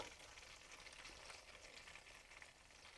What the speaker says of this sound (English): I want you to hear the sizzle.